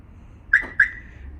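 Mercedes-based Airstream Interstate motorhome alarm gives two quick, loud electronic chirps in succession as the system is disarmed, close and alone against a quiet background.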